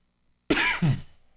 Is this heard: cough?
yes